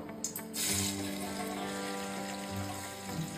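Paneer pieces frying in hot refined oil, a dense, steady hiss and sizzle close up, broken by a few brief clinks and splutters near the start, with no voices.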